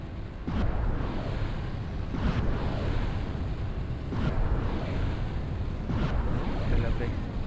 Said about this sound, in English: I think we can now get a few torpedoes off.